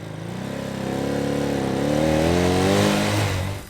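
A 1964 Honda Benly 150 motorcycle engine runs steadily and close by, its small-displacement buzz rising in pitch and volume partway through before easing off, with no voices.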